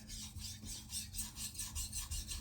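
Blade stroked back and forth on a hard, coarse natural whetstone, a rhythmic rasping scrape repeating about every quarter second, close and steady with no talk.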